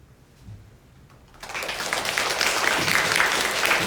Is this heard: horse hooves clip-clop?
no